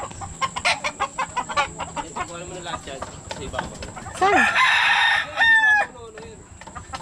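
Chickens at a cockpit cluck in a rapid, rhythmic series while a rooster crows loudly nearby twice, with people talking intermittently over the birds.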